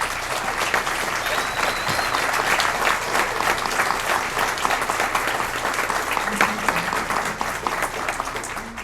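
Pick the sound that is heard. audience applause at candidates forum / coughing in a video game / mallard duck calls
audience applause at candidates forum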